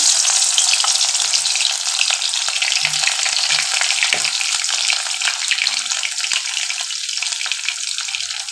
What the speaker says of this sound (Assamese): ইয়াতে মই এতিয়া দি দিম এই যিখিনি শুকান মাছ মই কাটি ৰাখিছিলোঁ এইখিনি মই ফ্ৰাই হ'বলৈ দি দিম